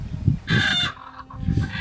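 Close desi chickens clucking in low bursts, with a rooster's crowing call rising above them twice.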